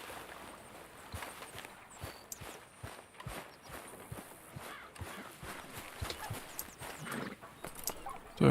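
A mare in Red Dead Redemption 2 clip-clops at a steady walk, the quiet hoofbeats repeating evenly against faint ambience.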